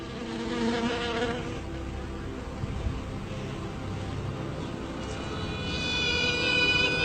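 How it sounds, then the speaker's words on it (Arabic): Buzzing of honeybees in a hive, with a higher piping tone from the queen announcing mating time rising near the end, a steady close insect drone throughout. "لنسمع معا صوت الملكة وهي تعلن عن موعد التلقيح."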